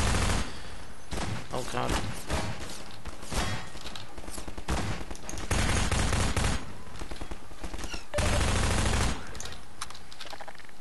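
Shotgun fire from enemies in Half-Life 2: repeated loud blasts and bursts of gunfire come in heavy clusters over a long stretch, with a man's brief exclamation in between.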